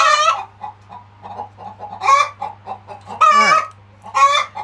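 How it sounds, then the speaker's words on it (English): Chickens in a coop squawk and cluck in loud, repeated bursts close by, with quieter clucking between the calls and a low steady hum underneath. "I've got whole bunches of noisy birds. That's this one here and that one down there that are squawking at the moment."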